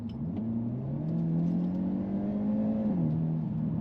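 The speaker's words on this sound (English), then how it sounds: "The engine livens up a bit and gives you a little bit more power" A 2022 Hyundai Elantra N engine revs up steadily in sport mode, its pitch climbing and holding a strong hum before dipping slightly near the end, close and continuous with no talk.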